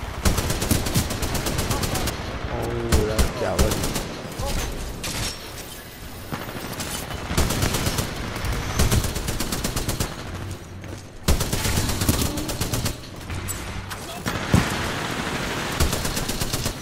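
Dense automatic gunfire from the video game Titanfall 2 rattles almost continuously in rapid bursts, with mechanical clatter and game effects mixed in.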